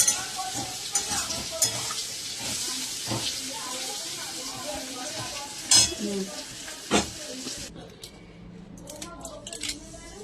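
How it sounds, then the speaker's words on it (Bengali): Dried fish (batia shutki), washed several times, sizzles and hisses steadily as it fries in a pan, with repeated scraping stirs and sharp clinks that give way to quieter frying near the end, while a voice speaks now and then. "মাছটা ভালো করে ভেজে নিতে হবে।"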